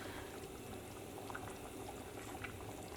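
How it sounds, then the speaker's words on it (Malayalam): Sardine fish curry (chaala curry) bubbling in a pot on a medium flame, a soft continuous simmer with small popping bubbles, close and steady with no voices. "കറി നന്നായിട്ട് തിളച്ച് കഴിഞ്ഞിട്ട് ഞാനൊരു മീഡിയം ഫ്ലെയിമിൽ ഒരു 10 മിനിറ്റ് വെച്ചിട്ടുണ്ടായിരുന്നു"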